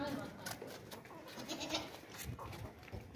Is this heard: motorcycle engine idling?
no